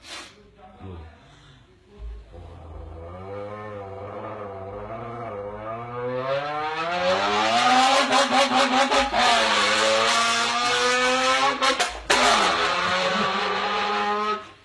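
A voice imitates a Honda VTEC car engine by mouth, a rising revving whine that climbs steadily in pitch and grows louder, then holds at a loud high-revving peak with brief breaks, all close and alone.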